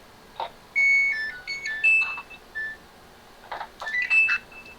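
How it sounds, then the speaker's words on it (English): Home clothes dryer chiming, a melodic series of electronic tones in two bursts, clear and fairly close, with faint background noise and no talk. "That sounds like my dryer."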